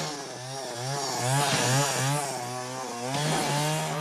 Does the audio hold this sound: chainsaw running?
yes